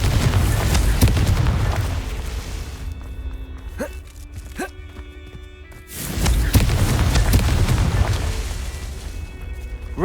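Blasting spell explosions from the video game Hogwarts Legacy, heavy booming bursts with rumbling low end, loud at the start and again after a quieter middle stretch with brief pops, game sounds continuing throughout.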